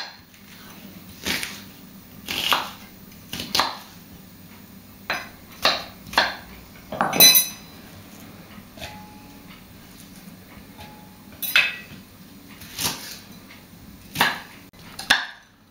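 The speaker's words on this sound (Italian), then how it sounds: "Adesso taglio la cipolla in quadratini piccoli." A knife chops onion into small cubes on a cutting board while preparing a South American meat seasoning, with about a dozen sharp, irregular strikes close by and no talk.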